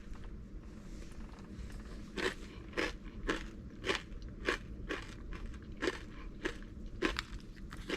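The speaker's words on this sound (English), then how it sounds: "Excuse me while I crunch away on a big handful of those." Crunching and chewing of a big mouthful of MRE corn mixed with tomato sauce and macaroni, close up, with a dozen or so sharp, regular crunches over steady outdoor wind on a windy Indiana day.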